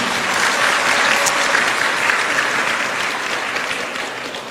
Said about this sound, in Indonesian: Tepuk tangan buat yang mau masuk politik nih